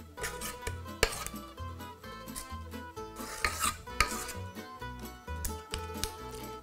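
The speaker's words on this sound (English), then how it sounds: "now I'm going to distribute it evenly among 12 cupcake cases" Tiramisu cupcake batter is spooned into twelve lined cupcake cases in a tin, with irregular close clinks and scrapes of spoons against the bowl and tin, a sharp tap now and then, and no talking.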